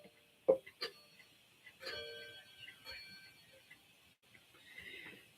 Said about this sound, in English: it's model number 8052, made in Japan. So it's a beauty. So you can hear a little bit of the chiming.